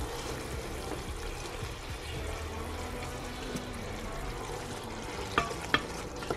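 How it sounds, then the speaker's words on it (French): Onions fry and soften in a pan with a faint, steady sizzle and a few soft clinks of a utensil near the end, quiet and close with no talking. "comme vous pouvez voir là, les oignons sont en train de fondre"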